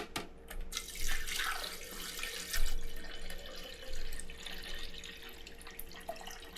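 Tap water runs and splashes into a one-liter measuring container for a homemade salt-water hypochlorous acid sanitizer in a kitchen, a steady nearby pour with brief surges and a few drips and no talking.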